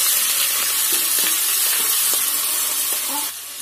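Green chillies, ginger and garlic frying in melting butter give a steady, close hiss and sizzle, with a few light stirring scrapes running through it.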